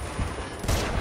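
Sniper rifle fire in the Uncharted 2 video game comes as two or three faint, muffled shots within about a second.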